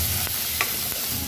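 Chili, coriander and cumin powders fry with chopped tomato in a pan as a spoon stirs, a brief burst of loud sizzling hiss with a couple of scrapes.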